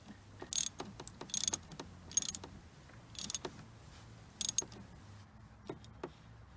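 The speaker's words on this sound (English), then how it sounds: "Then take your socket wrench, just tighten both those up nice and tight." A socket wrench ratchets as it tightens the battery terminal nuts on a VW T5. There are five short, loud bursts of rapid clicking, each followed by lighter metallic taps, close up and with no speech.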